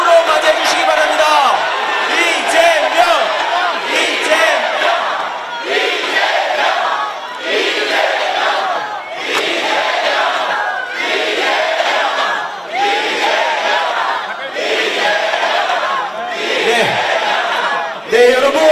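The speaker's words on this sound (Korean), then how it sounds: "큰 박수와 함성으로 맞아주시기 바랍니다" A large crowd at a Democratic Party candlelight rally in Korea roars, cheers and chants in rhythmic bursts, loud and sustained, with short dips between the repeated collective shouts.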